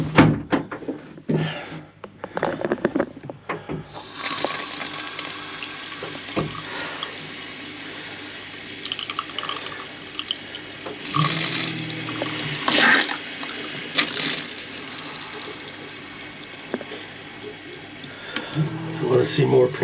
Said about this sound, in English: I'm going to drain the filter water.